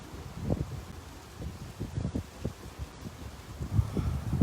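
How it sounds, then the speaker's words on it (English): Wind blows outdoors by the ocean, buffeting the microphone in low, uneven gusts that rumble and swell throughout, with no voices. "Nevin, it's kind of windy"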